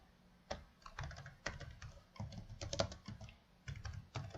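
Code being typed on a computer keyboard: a near, soft run of clicky keystrokes in irregular clusters with short pauses between them, alone and without talk.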